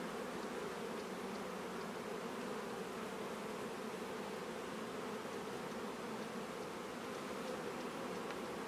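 Honey bees buzz in a dense, continuous swarm around an open hive during an autumn inspection, a steady close droning hum with no voices.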